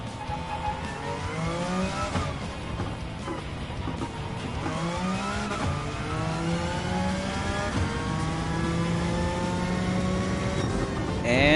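A race car in Gran Turismo 7 drives hard through a final downhill sector, its engine whining and rising through gear changes, dropping under braking and climbing again, loud and close, with no voices.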